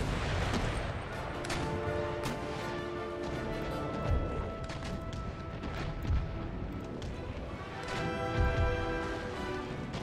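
Sailing warships in Empire Total War fire broadsides of chain shot, heard as a steady rumble of distant cannon fire with dull booms and crashes breaking through at intervals, and no voices.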